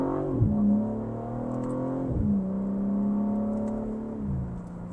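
A BMW M3 Touring engine revs steadily in sport mode, its pitch sweeping up and falling back in repeated surges, heard close from inside the cabin.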